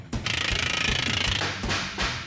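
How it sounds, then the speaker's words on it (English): A pneumatic air hammer rattles in a motorcycle chopper workshop, pounding in a fast, loud, steady burst and then cutting into short, sharp bangs. "I want to hear that air hammer all day"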